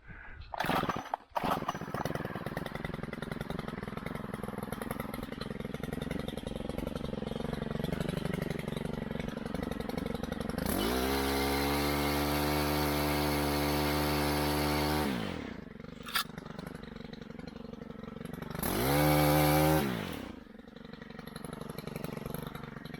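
Gas-powered pole saw idling with a steady mid-pitched drone, then loudly revving to full speed for several seconds, dropping back to idle and revving once more in a shorter burst, close by.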